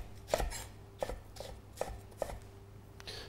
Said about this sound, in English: I'm going to cut or slice at a slight angle